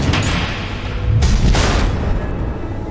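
Missile explosions in the Batman Telltale game: a continuous low rumble with two heavy booming blasts in quick succession near the middle, loud and close.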